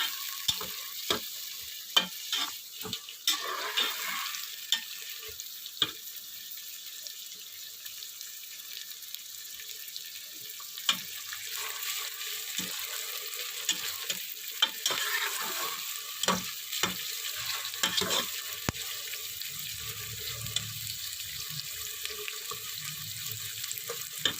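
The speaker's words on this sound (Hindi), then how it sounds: "प्याज हमारा फ्राई हो रहा है, बस इसे थोड़ा सा और फ्राई करके मैं इसमें गोश्त ऐड कर दूंगी" Onions frying in a pot for beef korma, a steady sizzle with scattered clicks of stirring throughout, close and moderately loud with no talking.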